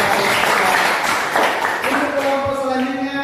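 A class of students claps for a presenting student group, a short burst of applause mixed with overlapping talk that fades into voices.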